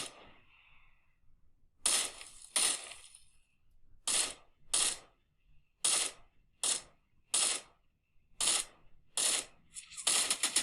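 Gunfire in a mobile shooter game played on an iPhone 16 Pro Max comes as separate bursts of rapid, crisp shots with short gaps between them, fairly close and clear, with faint game sounds underneath and no talking.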